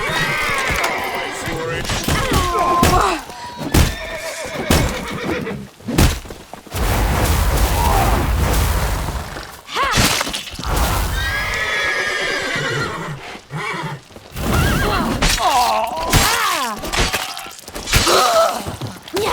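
Horse neighing and hoofbeats in The Witcher 3 during a chaotic chase and fight, with shouting voices, clashing combat and loud bursts running throughout.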